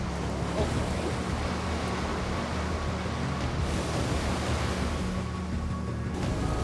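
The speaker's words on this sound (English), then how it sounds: "These aren't really ideal conditions, are they, with all these waves?" Rough ocean waves during shark fishing off Florida make a constant loud broadband roar of surf and wind, with no break and no voices.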